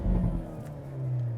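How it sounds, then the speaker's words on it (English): A 2024 Hyundai Elantra N accelerating in launch control, engine tone heard from inside the car, revving and then settling into a steady rising drone, moderately faint. "Launch control"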